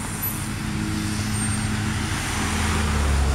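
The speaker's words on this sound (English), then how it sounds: "There's another UPS truck." A UPS delivery truck rolls by on a neighborhood street, a steady low engine rumble that builds slightly as it passes nearby, with no talking.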